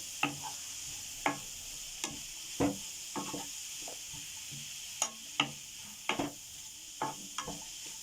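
Chicken pieces being stirred into a mixture in a pan for a chicken snack, heard as sparse, faint scrapes and light taps spread across several seconds in an otherwise quiet kitchen.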